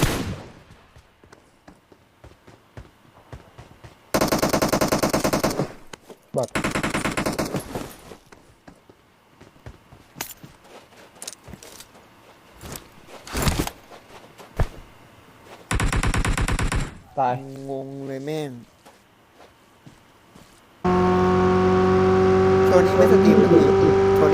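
Video game gunfire from bots: loud bursts of rapid automatic fire in several separate volleys, interspersed with quieter stretches of game sounds, a vehicle engine tone and people talking.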